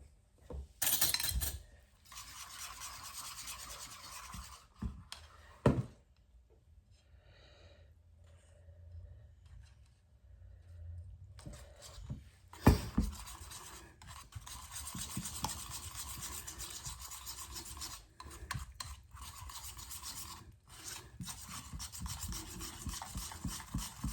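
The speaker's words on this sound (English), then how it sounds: "now we're going to whisk our wet ingredients" Wet ingredients for honey cornbread muffins are whisked in a bowl, giving rapid scraping, rasping strokes against the side with clinks, broken by a few quiet pauses between close bursts.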